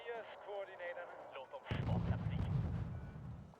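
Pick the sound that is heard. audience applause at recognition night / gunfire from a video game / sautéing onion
gunfire from a video game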